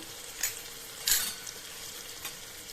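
A paste of coconut, garlic and cumin is frying with sautéed tomatoes in a pan. A faint, low sizzle is broken by a few quick scraping stir strokes.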